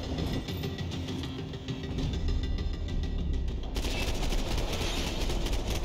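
Gunfire during a nightclub assault in the video game Max Payne 3, a dense, continuous clatter of rapid shots blended with loud game effects, with no pauses.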